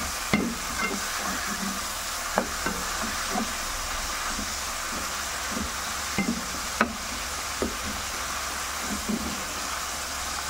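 A spatula scrapes and turns food in a sizzling pan as pepper and liquid seasoning are mixed in for a bean sprout dish, with rhythmic stirring strokes over a constant frying hiss.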